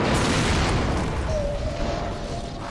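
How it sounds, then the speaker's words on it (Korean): A deep, rumbling explosion in the underwater city of Bioshock rolls out as one sustained boom that slowly fades. "폭발이다!"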